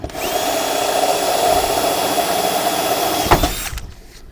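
Cordless drill running steadily during a solar panel installation, a continuous whine lasting several seconds before stopping abruptly with a sharp knock, leaving a brief quiet tail.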